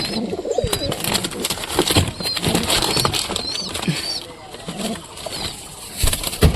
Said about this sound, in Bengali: এক কপে 3টা কবুতর ঢুকে আছে।